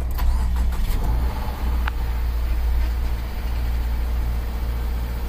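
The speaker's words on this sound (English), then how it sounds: "So we'll go up to the front, we'll start the car up." A 2017 Subaru Outback with the 2.5L engine cranks and fires up, then settles into a steady low idle, heard close with no speech.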